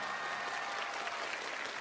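A studio audience claps steadily in a dense, even wash of applause on a Chinese CCTV classic-music TV show, sustained throughout without a break.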